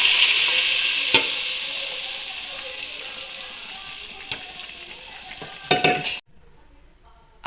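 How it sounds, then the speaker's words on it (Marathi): Cooked whole masoor lentils go into sizzling masala and are stirred, giving a loud, steady frying hiss with sharp scrapes and clatters before it cuts to near silence. "आता हा शिजवलेला मसूर आपण यामध्ये घालणार आहोत"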